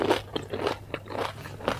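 Crunchy bites and chewing of masala Maggi noodles with macaroni, several close, crisp crunches in a steady rhythm over about two seconds with no talking.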